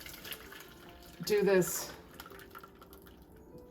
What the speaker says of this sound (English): I'm gonna go over here and just pour this in a strainer